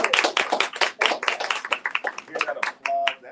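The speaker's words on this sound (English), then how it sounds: "Hear that applause?" An audience claps at an author's book event, a burst of scattered, close hand claps with voices talking over them.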